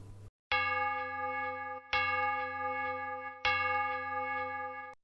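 A bell strikes three times, each ring loud and clear with a long, shimmering tone that sustains between hits. It plays alone with no voices.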